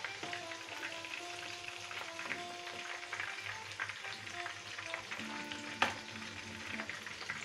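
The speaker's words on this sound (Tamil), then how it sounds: "இங்கே பாருங்கள், எல்லாம் அழகாக ஃப்ரை ஆகிடுச்சு." Cauliflower frying in a pan, with a continuous soft sizzle and crackle broken by faint stirring scrapes and one brief clatter.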